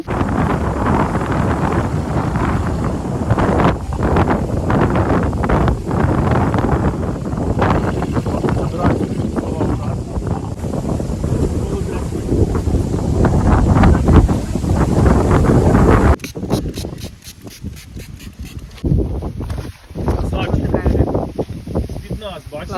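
Strong wind blowing across a lake during an autumn carp fishing competition, heavy buffeting microphone wind noise roaring almost constantly, then dropping into gustier, choppier bursts near the end, with people speaking intermittently underneath.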